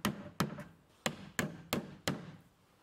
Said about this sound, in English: I'll nail the bottom edge of the ramp in the same way.